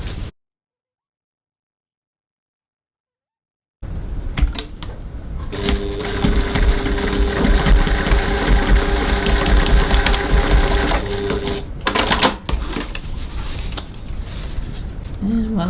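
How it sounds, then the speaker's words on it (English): A sewing machine runs steadily stitching a 1 cm seam on fabric for a travel sling bag, a continuous close whirring hum after a few seconds of silence, with a brief pause near the end. "Now I'm just going to stitch my seam at 1 centimetre 3/8 of an inch"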